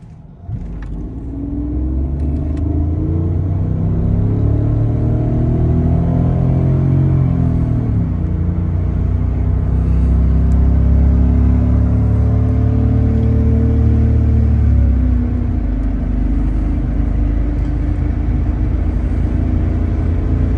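A Mercedes CL600 W215 with a BiTurbo V12 accelerates hard. Its loud, close engine note climbs and sweeps upward through the revs, dips briefly between shifts, and holds a deep, sustained roar before easing off.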